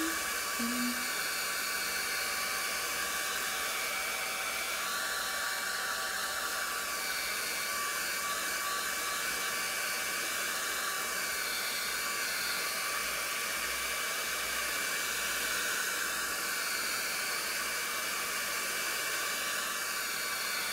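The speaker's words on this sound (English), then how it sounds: "hair dryer just to speed up the process so this doesn't take so long. So I'll use a low setting so it's not burning my face" A hair dryer runs on a low setting, held near the face during a skincare treatment, giving a steady continuous airy whoosh for the whole stretch with no pauses or talk.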